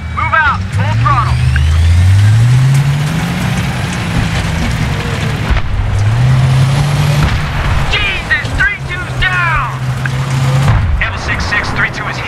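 Tank engine roaring at full throttle in Battlefield 3, a heavy rumble rising and falling in pitch under booming artillery blasts and crackling gunfire, with radio chatter over it.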